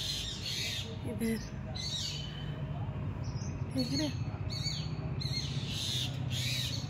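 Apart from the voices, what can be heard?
birds chirping in the morning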